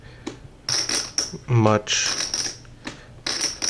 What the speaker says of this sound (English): here's a stack of chips